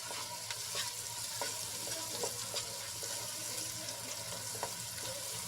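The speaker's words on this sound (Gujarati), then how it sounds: "અને બધા મસાલા સરસ રીતે મિક્સ કરી લઈશું" Spices for gravy are stirred and fried in a pan with salt and garam masala powder, giving a steady soft sizzle broken by repeated light scrapes and taps of a spoon.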